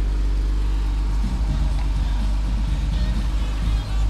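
A 2015 Jeep Grand Cherokee Limited engine runs steadily close by, a loud, even low rumble with slight fluctuations and no voices.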